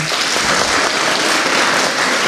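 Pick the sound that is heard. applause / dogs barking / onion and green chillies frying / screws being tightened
applause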